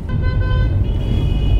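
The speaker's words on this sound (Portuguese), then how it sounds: "Um monte de cara buzinando, velho." Car horns honking in city traffic, steady sustained toots layered over a constant rumble of engines and road noise.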